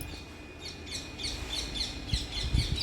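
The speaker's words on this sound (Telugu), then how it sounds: "పిట్ట వచ్చింది బాగా బాగా సౌండ్ వేస్తుంది" Several birds, including parakeets, chirp and call repeatedly from nearby trees in a village, bright tweets in quick bursts over a low outdoor rumble.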